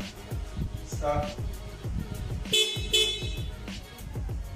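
A stock horn on a Honda Mobilio gives a couple of short, loud honks in quick succession, mixed with voices and background activity.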